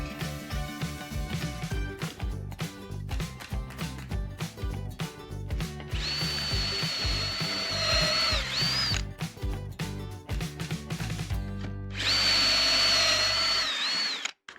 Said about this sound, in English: I'm going to carry on with my Craig jig over here and make pocket holes facing down